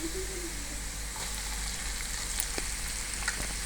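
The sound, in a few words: ginger added to sizzling tempering oil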